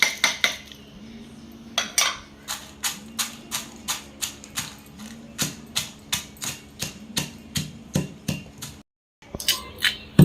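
Roasted ridge gourd chutney ingredients are pounded in a stone mortar, making a steady run of around twenty sharp, close knocks at an even rhythm with brief pauses, and no talking.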